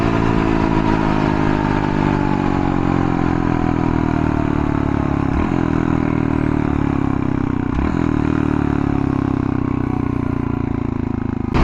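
A Honda Trail 125 motorcycle engine running at high, sustained revs, loud and close with a steady drone, dipping briefly twice as the throttle eases.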